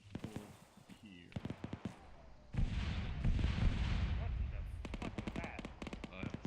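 Booming artillery fire in a military shooter game, with a long rumbling barrage mid-clip and rapid sharp gunfire bursts before and after, under radio-style team voices calling positions.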